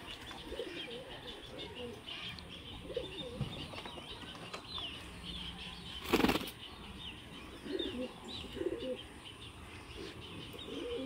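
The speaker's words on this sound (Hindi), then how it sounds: "ये अपना लखा कबूतर है" Pigeons cooing softly amid light chirps, with a sudden burst of wing flapping partway through; no one speaks.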